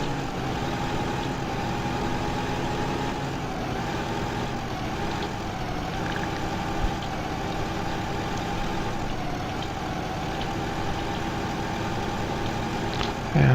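A tractor engine in Farming Simulator 2015 drones steadily as it drives downhill, a continuous loud hum with a constant pitch and no talking.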